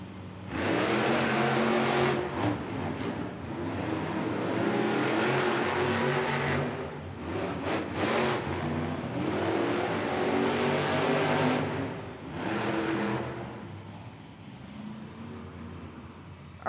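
Monster trucks race side by side at a Monster Jam arena event in Helsinki, Finland. Their engines roar and rev loudly in rising and falling waves before fading toward the end.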